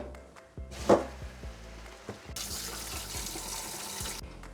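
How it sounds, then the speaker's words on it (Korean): Boiled oxtail is rinsed clean under cold running tap water, a steady close splash and hiss of water into a sink lasting about two seconds, preceded by a few knocks and clatters of handling. "불을 끄고 찬물에 깨끗이 씻어주세요"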